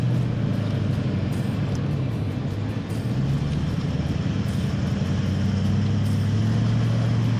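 A 4WD crawls over rocks in second gear, low range, on the Gibb River Road, its engine a loud, steady low drone with a shifting pitch and rumbling, without pause.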